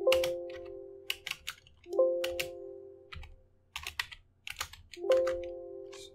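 Bursts of rapid keyboard clicking in short runs, close and crisp, separated by brief pauses with a faint tonal hum underneath.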